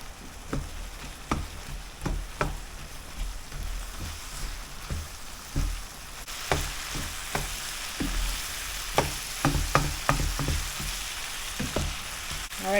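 Sausage and beef frying in a pan with taco seasoning, a continuous crackling sizzle punctuated by repeated spatula knocks and scrapes as the meat is stirred.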